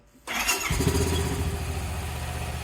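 A 2023 Honda Pioneer 700 side-by-side, suspected of a bad camshaft, cranks with a brief whir and fires up, settling into a loud, steady, rumbling idle close by.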